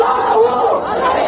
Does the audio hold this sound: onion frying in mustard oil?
no